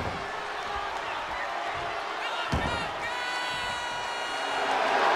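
Arena crowd in the WWE 2K24 wrestling game roars and cheers continuously, with a sharp slam-like impact midway and the cheering swelling toward the end, under a commentator's voice.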